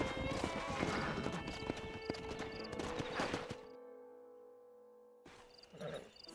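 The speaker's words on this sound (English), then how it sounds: "We got some fine horses." Horse hooves clip-clop in the Red Dead Redemption video game, a rapid rhythmic galloping patter with crickets and other sounds, breaking into a near-silence and then resuming briefly at the end.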